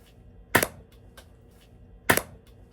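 A toy gun fires two sharp, loud cracks, spaced about a second and a half apart, each standing alone against a quiet room.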